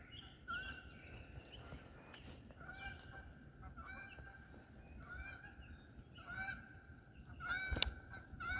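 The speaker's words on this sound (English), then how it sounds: "A lot of Canadian geese on this lake." Canada geese honk repeatedly at a distance on Lake Dunn Wynne, Arkansas, calls overlapping in a loose chorus, with a louder cluster of honks near the end over quiet outdoor ambience.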